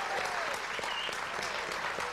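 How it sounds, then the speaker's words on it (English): A studio audience at a televised dating show applauds a contestant named Andrea, giving a brief, dense burst of clapping with sharp individual claps standing out, fairly distant and moderate in level. "Give her a round of applause."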